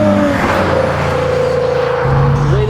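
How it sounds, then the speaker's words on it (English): An Italian car with a Ferrari-developed twin-turbo V6 drones steadily from the exhaust, a loud, close, sustained engine note that shifts pitch partway through. "Very first thing you notice driving this car is the exhaust."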